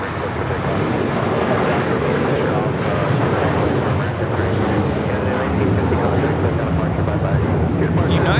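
A United Airlines Boeing 757-300 airliner taking off at Los Angeles International Airport, with a loud sustained jet engine roar that holds steady throughout, mixed with some background noise.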